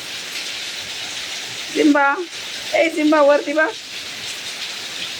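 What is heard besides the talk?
heavy rain falling in the morning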